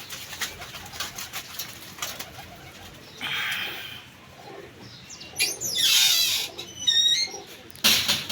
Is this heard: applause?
no